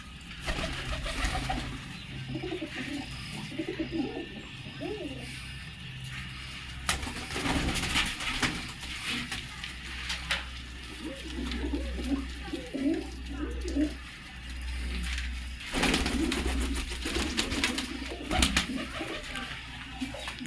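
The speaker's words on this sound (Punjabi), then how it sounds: "ਆ ਸਾਰੇ ਵੱਡੇ ਕਬੂਤਰ ਨੇ" Adult pigeons in a loft coo repeatedly in low, throaty rolling bursts, close by. Someone talks over them intermittently, and louder clattering noises break in now and then.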